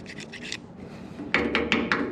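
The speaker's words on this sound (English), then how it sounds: "Use a flat blade screwdriver, works good as an auger." A flat blade screwdriver scrapes and rasps inside a clogged fitting on a long-parked 1996 White Road Xpeditor truck, first in a quick run of short strokes, then a pause and four louder, distinct scraping bursts close by.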